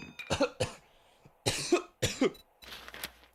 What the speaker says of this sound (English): Sorry about the little bit of a cough I got developing apparently.